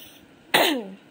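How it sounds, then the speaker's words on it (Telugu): A single sharp human cough bursts out close and loud, decaying over about half a second against a quiet background. "నాకైతే దగ్గు అయితే చాలా వస్తుంది"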